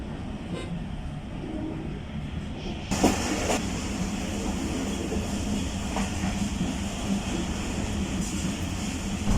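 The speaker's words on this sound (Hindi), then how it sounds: "आप ट्रेन की रफ़्तार देखें कि किस कदर सुस्त रवि से ये ट्रेन चल रही है" The Jaffar Express passenger train rolls slowly along the rails through rural Sindh, with a steady low rumble and rattle of the carriages and a sharp clank partway through, and no talking.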